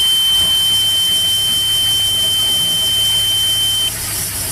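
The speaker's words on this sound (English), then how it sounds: "So that's that annoying buzzer I was talking about." A boat engine's low oil pressure warning buzzer holds one steady high-pitched tone for about four seconds before cutting off, loud and alone over a low engine hum.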